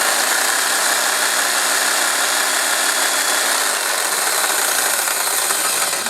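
An older jigsaw runs continuously, giving a loud, even motor buzz with a rattling edge that dips slightly in pitch partway through.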